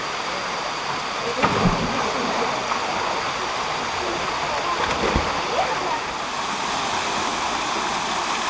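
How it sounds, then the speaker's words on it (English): Huay Kaew Waterfall in Chiang Mai roars with dense, continuous rushing water, loud and close, with a couple of heavier splashes and thumps rising through the steady wash. "Huay Kaew Waterfall."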